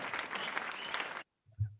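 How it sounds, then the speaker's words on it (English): A short burst of audience applause, dense and moderately loud, runs for just over a second and stops abruptly, followed by silence and a brief low thump. "I think you deserve a applause for that."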